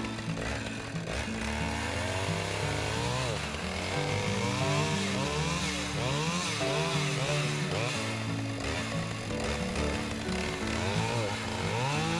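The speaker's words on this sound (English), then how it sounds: "As I'm cutting up the firewood" A chainsaw cuts big maple firewood with a continuous loud, rasping engine drone whose pitch rises and falls as the chain bites, with a voice talking over the noise.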